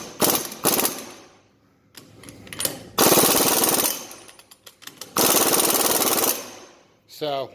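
A pneumatic impact wrench hammers loudly on the wheel hub nut of a 2018 Polaris RZR XP Turbo S, with several rapid rattling bursts, two of them long and sustained, close up with brief pauses between.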